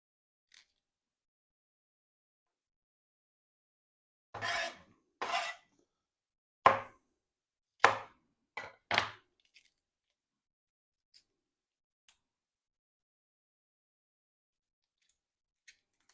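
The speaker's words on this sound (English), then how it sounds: "Any of the smaller Brussels sprouts, I'm just gonna cut them in half" A knife slices small Brussels sprouts in half on a cutting board, giving a handful of short, crisp crunching cuts in a quiet room, spaced unevenly with silence between them.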